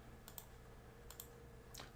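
A few quick bursts of computer-keyboard key presses, faint and sparse, spaced out over a quiet room background.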